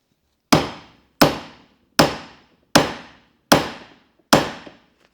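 Six sharp hammer blows on metal ring out one by one at an even, unhurried pace during king and link pin spindle service on a 1962 Volkswagen Beetle, each a loud clanging strike that quickly fades.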